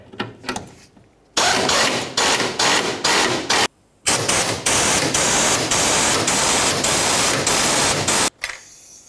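A ratchet tightens the fuel tank strap bolts on a 2004–2015 Nissan Titan, producing loud, dense, rapid clicking in long bursts, broken by brief pauses and a few sharper knocks.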